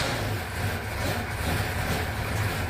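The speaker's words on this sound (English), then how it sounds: "Drivers, start your engine." Several NASCAR stock car engines at Sunset Speedway rumble steadily at idle, a dense low drone that holds even throughout with no talk.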